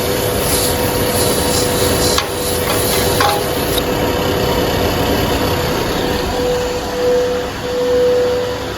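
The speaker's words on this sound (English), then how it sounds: "Slow down your lathe." A wood lathe spins a wooden top with a steady, loud whirring hum and broadband hiss, faint scraping touches early on, and a pitch that shifts slightly later as the speed changes.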